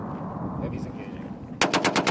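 Heavy machine gun fires during a Marine live-fire exercise in the desert training area, a sharp burst of about six loud, evenly spaced shots arriving abruptly after a stretch of rumbling background noise.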